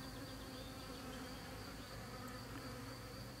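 Honeybees at a hive entrance where a small swarm was just housed, a dense continuous buzzing hum that stays even and close for the whole stretch, no voices.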